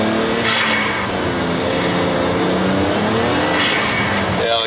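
BMW 335xi car with a worn clutch, heard from inside while driving: a loud continuous engine and road roar with rising and falling harmonic whine as revs change, steady throughout.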